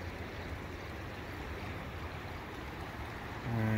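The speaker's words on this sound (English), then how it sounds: "this is the Truckee River, basically Lake Tahoe runoff water" The Truckee River, Lake Tahoe runoff flowing past Rock Park in Reno, Nevada: a constant broadband rush of moving water, steady and close, with a brief low hum entering at the very end.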